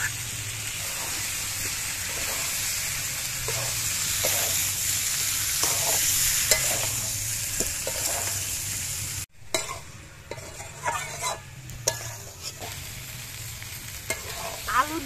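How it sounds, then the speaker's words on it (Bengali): Potatoes frying in a cooked-down spice masala for aloo dum, a loud, steady sizzle with repeated scraping stirs, a brief drop-out partway, then sharper clattering stirs and crackle continuing to the end. "আলু দিয়ে আর মশলা দিয়ে 5 মিনিট কষানোর পর"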